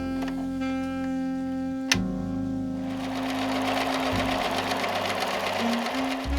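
Sewing machine running steadily as it stitches a folded fabric tube for a 1940s-style hat, a continuous near mechanical whir with a brief click before the motor picks up speed.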